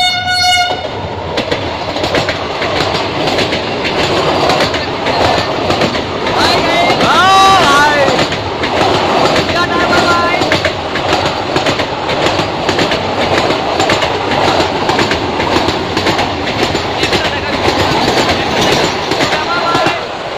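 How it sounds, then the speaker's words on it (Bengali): A Vande Bharat Express train pulls into a station with a loud, continuous rumble and rhythmic wheel clatter, a brief horn blast near the start, and faint squeals mid-way, while people talk beneath the noise. "আসছে আমাদের ট্রেন, বন্দে ভারত এক্সপ্রেস।"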